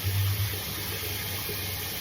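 Water splashing steadily at a bathroom sink while a face is washed, with a low hum beneath; the sound stays continuous and close, with no talking.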